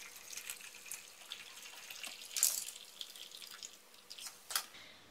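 Hot water pours steadily into jars from close by with a soft splashing hiss, swelling briefly in two brighter gushes.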